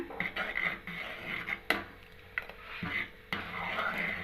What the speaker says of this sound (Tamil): இப்போ இந்த கம்பு கம்பு மாவு ஊற்றிருக்கோம். அதனால் நல்லா கிண்டி விட்டுட்டே இருக்கணும்.